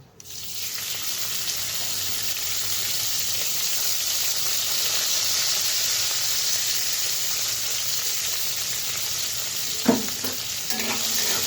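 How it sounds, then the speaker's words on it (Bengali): Washed rice frying in a pan with whole garam masala of cardamom, cloves and cinnamon, a steady close sizzle that keeps on throughout, with a few scraping and clinking stirs near the end. "তো ধোয়া চালটা ভালো মতন ভেজে নেব।"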